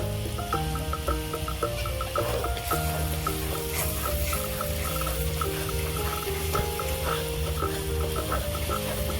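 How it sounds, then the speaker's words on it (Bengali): Spices fry with ginger and garlic for prawn biryani, a steady, moderate sizzle that runs continuously under sustained tonal background hum, with no speech. "মশলা দিয়ে ভালো করে কষিয়ে নিয়েছি"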